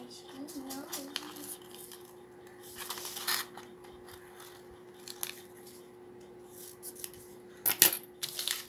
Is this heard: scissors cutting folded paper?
yes